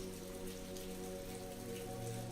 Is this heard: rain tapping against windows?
yes